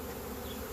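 A swarm of honey bees buzzing, a dense steady drone close by that fills the brief moment without a break.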